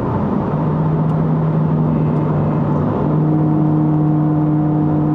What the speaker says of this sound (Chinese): 那我再降档。